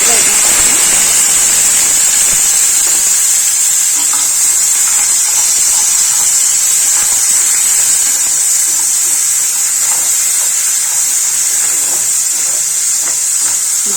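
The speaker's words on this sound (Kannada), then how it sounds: "ಹಸಿ ವಾಸನೆ ಹೋಗುವವರೆಗೂ ಫ್ರೈ" Onion and ginger-garlic paste fry in a pan for a soya dish, giving a steady, even sizzle with a hissy wash and occasional light stirring scrapes throughout.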